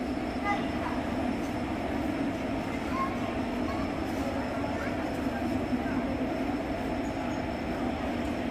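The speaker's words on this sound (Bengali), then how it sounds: "এই ট্রেনে আমরা যাব" The Shalimar Puri Express at Shalimar railway station, a steady low rumble of the train heard from the platform, moderately faint and continuous with no clear breaks.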